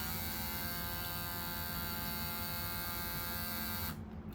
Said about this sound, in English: I'm just gonna turn the clipper blades on